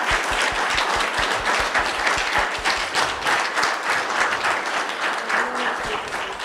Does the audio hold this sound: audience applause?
yes